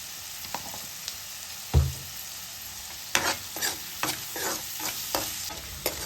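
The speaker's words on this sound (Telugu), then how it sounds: "ఉల్లిపాయలు అయితే వేగుతున్నాయి" Onions fry in oil for a dried fish gongura curry. A low sizzle runs under repeated scraping strokes of a spoon against the pan, with one louder knock early on.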